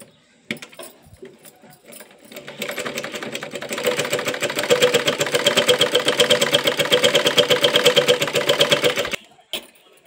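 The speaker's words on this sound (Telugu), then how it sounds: "స్పీడ్ కట్టే మళ్ళీ వీడియోలో సౌండ్ ఎక్కువ వస్తుంది, అందుకే మెల్లగా కుడుతున్నాను" Sewing machine stitching fabric at a slow, even pace: after a few clicks of handling, a steady rapid needle chatter runs for about six seconds, close and fairly loud, then stops abruptly.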